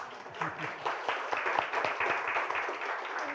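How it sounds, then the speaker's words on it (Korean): A church congregation at a Sunday service claps for returning members, a moderate, steady patter of many hands filling a few seconds, with some voices mixed in beneath it. "우리 박수 한번 해주시기 바랍니다."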